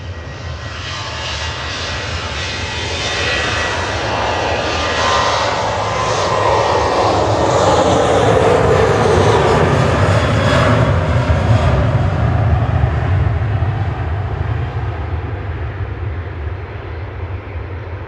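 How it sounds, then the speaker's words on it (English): A Ryanair jet departs Manchester Airport bound for Dublin, its engines building into a broad, loud roar that swells toward the middle and then slowly fades as it climbs away. "Ryanair departing next"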